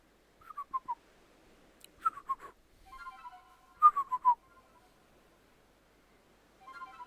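A whistled melody is played to Basculegion in a Pokémon video game, heard as several short phrases of bright, gliding notes separated by silent pauses.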